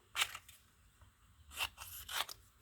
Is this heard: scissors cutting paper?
yes